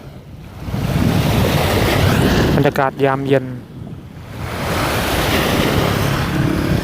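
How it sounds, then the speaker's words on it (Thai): Sea waves wash steadily along the seafront at Bang Pu, Samut Prakan, a broad continuous surf wash with wind noise, briefly interrupted by someone speaking in the middle. "นั่งดูคลื่นทะเล"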